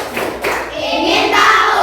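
Children's rhythmic concentration clap in a classroom, a group clapping hands in quick patterned bursts that build steadily louder, with a faint bright edge of voices mixed in.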